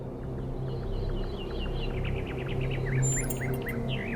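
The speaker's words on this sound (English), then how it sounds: "Do you hear the birds chirping outside the dome?" Small birds chirp and tweet in quick repeated calls against a steady low hum, the chirps fairly faint and continuous, in the video game The Talos Principle 2.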